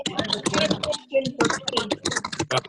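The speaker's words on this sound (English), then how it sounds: "who's typing?" Keyboard typing clatters through a Rotary Club meeting, nearly buried under continuous overlapping talk and room chatter, with no clear separate keystroke rhythm.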